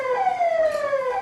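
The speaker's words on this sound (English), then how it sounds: "If the warning siren is this," Warning siren aboard an offshore oil production vessel: a loud, steady electronic tone that slowly falls in pitch, sounding alone.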